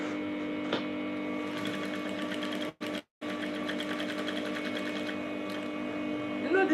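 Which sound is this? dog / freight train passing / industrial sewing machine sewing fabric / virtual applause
industrial sewing machine sewing fabric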